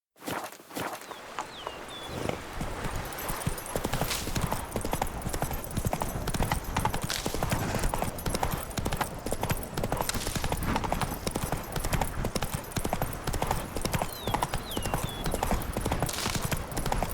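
A horse galloping in The Witcher 3: Wild Hunt, Blood and Wine, with steady rapid hoofbeats clip-clopping close and loud for the whole stretch over faint ambient game sound.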